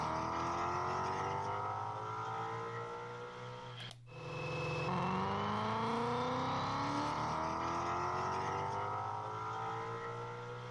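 A Ford Mustang with single-tip exhaust revs hard, its engine note climbing, cutting off briefly at a gear shift, then rising again as it pulls away, steady and fairly faint.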